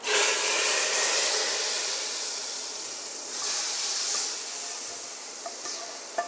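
A loud, sustained sizzle hisses as hot oil tempered with cumin and whole chilies is poured into lentils, fading slightly then flaring again before settling down.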